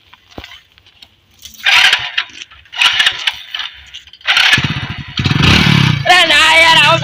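A motorcycle sputters through several start attempts in a garage, bursts of engine noise that catch and rumble louder toward the end, with people talking over it.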